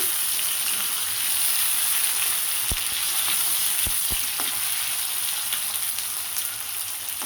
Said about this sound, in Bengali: এখানে আমি চিংড়িটা ভেজে নিচ্ছি